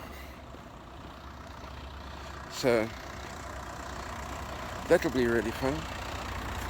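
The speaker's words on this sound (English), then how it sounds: "There goes an Ulster bus pass behind me." An Ulster bus and other road traffic pass behind someone walking outdoors in the evening: a faint, steady engine rumble in the distance, under brief speech from a nearby man.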